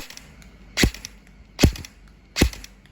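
An E&C 827 Gen2 airsoft gun with a 9.5-inch handguard fires three single shots, evenly spaced under a second apart. Each is a crisp, close snap with no talking.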